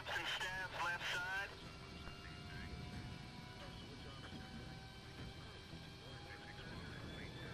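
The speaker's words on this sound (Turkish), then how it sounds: "Uçak kullanıyoruz." Airplane engine drones steadily in Battlefield 3, a sustained whine with tonal harmonics, after a brief loud burst of voice at the start.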